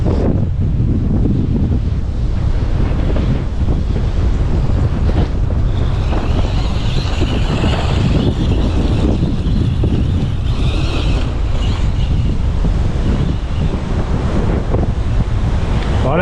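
Strong wind roaring outdoors on a field of tall grass during a radio-controlled car run, a loud continuous rush and buffeting against the microphone that never lets up.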